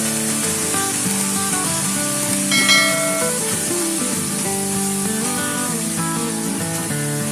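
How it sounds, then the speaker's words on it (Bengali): Crushed onions fry in a pan with a steady, even hiss, heard alongside a tonal musical background. "পেঁয়াজ থেঁতো করা। আপনারা চাইলে বাটাও ব্যবহার করতে পারেন। একটু ভেজে নিচ্ছি।"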